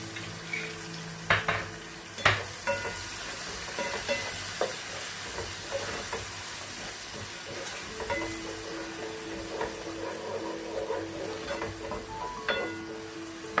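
Ginger garlic paste fries in a pan for a king crab pepper gravy, giving a soft, continuous sizzle with scattered light clicks and scrapes from stirring.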